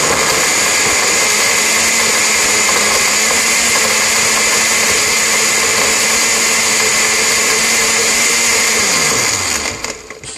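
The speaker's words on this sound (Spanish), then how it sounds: "Y vamos a licuar." A blender whirs steadily while blending a banana smoothie, a loud, even high-pitched motor whine that holds for about nine seconds before spinning down at the end.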